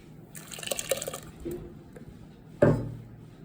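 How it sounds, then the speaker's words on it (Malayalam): Watermelon juice is poured for a sarbath, giving faint, brief liquid trickles and drips followed by one louder splashing pour near the end, heard close and quiet. "ഇനി നമുക്ക് ആ ജ്യൂസ് ഒന്ന് ഒഴിച്ചു കൊടുക്കാം."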